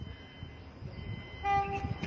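A train passes close by a canal-side accident site in Thailand, a steady rolling rumble of wheels and cars, with a sustained horn blast joining in the second half.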